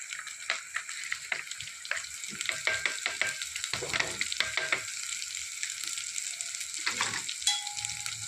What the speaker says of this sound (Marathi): आता आपण याला टाकून घेत आहोत आणि परतून घेणार आहोत